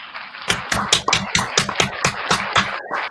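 A small studio audience gives a round of applause on a comedy show, about ten sharp, evenly spaced claps, loud and close.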